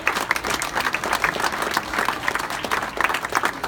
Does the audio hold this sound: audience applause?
yes